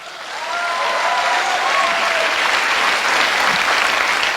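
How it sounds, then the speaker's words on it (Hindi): Audience applause during a motivational speech in Hindi, a dense, steady wash of clapping from a large crowd that swells in after a brief quiet start and holds loud for several seconds, with no talking over it. "इस पर तालियां बजाओ।"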